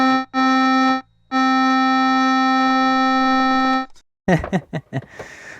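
A steady tone from a Yamaha PSS-130 toy keyboard holds with a brief break, ringing with a buzzy resonance from its speaker, then cuts to a few short bursts of noise.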